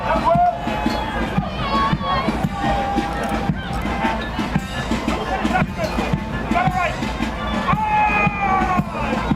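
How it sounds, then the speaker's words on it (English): Enthusiastic crowd cheering and shouting at a national military parade, a steady, dense roar of voices with whistles and rising calls throughout, fairly loud and continuous over marching troops. "all of the cheers from this really enthusiastic crowd"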